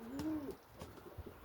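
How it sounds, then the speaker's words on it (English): A pigeon coos close by, a short rising-and-falling call followed by softer murmurs against quiet outdoor background. "I wanted to show everybody this pigeon because it's an absolute, it's a class pigeon."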